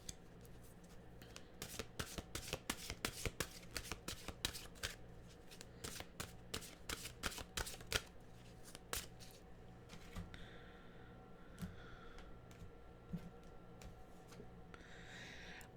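A deck of oracle mantra cards being shuffled by hand, giving quiet rapid riffling flicks in bursts, then softer sliding and tapping of cards, close and alone without talk.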